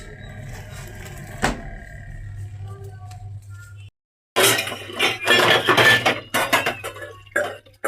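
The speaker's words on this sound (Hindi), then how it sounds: "बर्तन धो लिए मैंने" Dishes and steel utensils are washed by hand, with a sharp clink, then a burst of rattling and clanking pots and cutlery over a low steady hum, close by.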